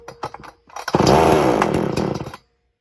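An xtermepowerus 62100xp chainsaw cold-starting: a few quick pull-cord rattles, then the engine catches and revs loudly and raggedly for over a second before cutting out, close up.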